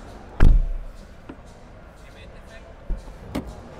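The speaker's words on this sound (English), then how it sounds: "Let's close the doors." Doors of a 2020 Volkswagen ID.3 electric car being shut, one loud close thud followed by two lighter, more distant closing knocks, with quiet gaps between them.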